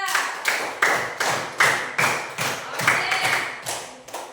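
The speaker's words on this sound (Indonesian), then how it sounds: "Oke, tepuk tangan dulu buat kita." Students in a classroom clap together in a steady rhythm, with sharp, evenly spaced bursts about every half second that stay loud and close for a few seconds.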